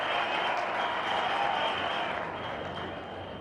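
A cricket stadium crowd at an India versus Pakistan Test match cheers and applauds loudly and steadily after a leg bye, a dense roar that eases slightly toward the end.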